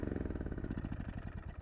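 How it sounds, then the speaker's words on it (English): A riding lawn mower engine, just rebuilt with its air filter assembly refitted, runs steadily close by in a fast, even chugging pulse with a rattly mechanical edge and no talk. "So once we put the air filter assembly on and everything like that, this mower ran perfectly."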